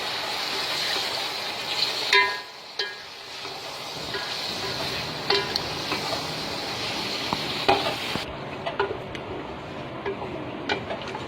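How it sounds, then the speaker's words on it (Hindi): Chicken pieces fry and sizzle in garlic and ginger while being stirred, a steady close crackle with occasional scrapes and clicks from the utensil. "जो हमने 1 किलो चिकन ली थी, इसको लहसुन अदरक में और इसमें भुनाई करेंगे"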